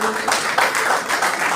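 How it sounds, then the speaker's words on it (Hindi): An audience at a school event claps loudly for students who placed second in a rangoli competition. The applause is steady and dense through the whole short stretch, with faint voices mixed in. "जोरदार तालियों से बच्चा स्वागत।"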